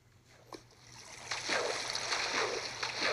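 Water splashing in the Minecraft video game, a few soft splashes and sloshes building into a steady, fairly quiet wash of moving water.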